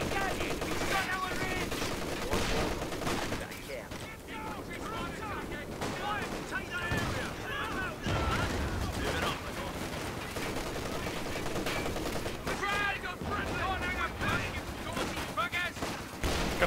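Dense, continuous machine gun fire and other gunshots from a Company of Heroes 2 multiplayer battle, loud and layered throughout with a voice talking over it.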